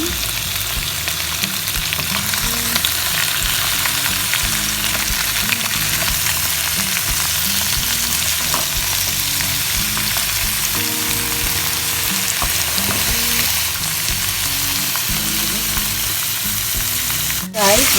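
Skinless hot and spicy lechon belly sizzles loudly and steadily in a pan, with occasional stirring scrapes under the continuous frying hiss and no one speaking.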